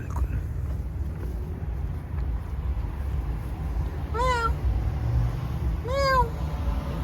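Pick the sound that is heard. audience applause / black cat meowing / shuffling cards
black cat meowing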